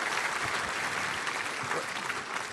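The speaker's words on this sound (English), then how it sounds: "One more round of applause, please, for all the nominees and honorees today." A room full of people applauding nominees and honorees at a law enforcement awards ceremony, sustained dense clapping at moderate distance with a faint crowd murmur.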